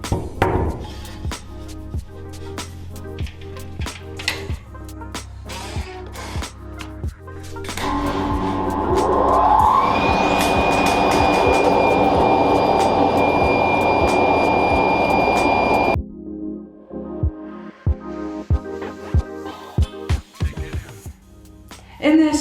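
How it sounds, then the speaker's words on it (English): A vacuum pump runs on a screen printing exposure unit with a metal halide bulb, giving a steady, loud whirring hum for several seconds. Clattering taps and knocks are heard before and after it. "we're actually going to put a vacuum on, which again helps the emulsion and really come close towards the"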